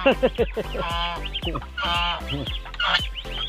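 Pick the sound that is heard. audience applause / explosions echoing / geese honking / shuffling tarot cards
geese honking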